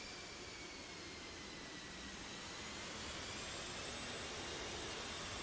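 A jet aircraft taxiing out in the DCS World combat flight simulator, a continuous broadband engine roar with a faint high whine, steady and unbroken with no voices.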